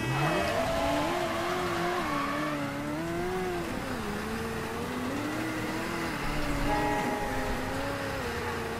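A damaged car being driven hard in Mafia III, its engine droning and rising and falling in pitch as it revs and shifts, loud and steady throughout with no talk.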